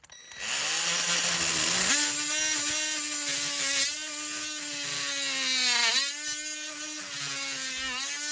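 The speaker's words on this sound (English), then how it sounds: "the tool I'm going to use to do that, of course, is my favorite tool in the world, the oscillating tool" An oscillating multi-tool cuts through a rubber roof around a plumbing vent: a loud, buzzing motor whine that holds steady, dips in pitch and rises again as the blade bites. It is close and runs unbroken, with no talking.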